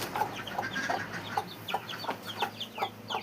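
Hens and guinea fowl on a farm cluck in a loose, repeating rhythm of short calls close by, with no talk over them.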